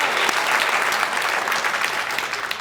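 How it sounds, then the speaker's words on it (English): Steady applause from an audience at an evening Boys & Girls Club Hall of Fame ceremony in Nashua, New Hampshire, dense and even throughout with no distinct voices over it. "go ahead, round of applause"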